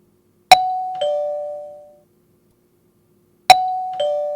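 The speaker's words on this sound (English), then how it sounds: "Doorbell." A two-tone ding-dong doorbell from an apartment intercom in the visual novel game Memories Off, pressed twice: each press gives a bright strike and a lower second chime that rings out, with silence between.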